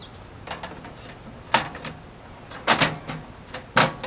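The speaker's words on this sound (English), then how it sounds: "Now we can put the door back" A Girard GSWH-1 tankless RV water heater's exterior access door being fitted back into place gives a few sharp, close clicks and snaps at uneven intervals, with no talking.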